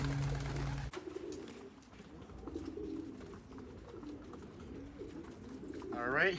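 Racing pigeons cooing in a loft, soft low coos under background noise, with a brief rising call near the end.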